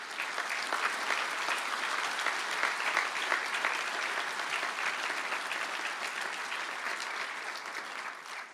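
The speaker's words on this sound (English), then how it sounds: "Can I please ask the graduates of the Bachelor of Engineering in Automation and Robotics to please stand up for a round of applause." Audience at a university conferring ceremony in Galway applauds Automation and Robotics engineering graduates: sustained, dense clapping from a large crowd, steady and loud throughout with no talk over it.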